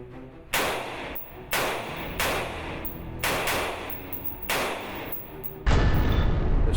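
An FN SCAR fully automatic assault rifle with collapsible stock fires about six loud, sharp bursts at roughly one-second intervals, each blast ringing with echo, ending in a sustained roar of noise.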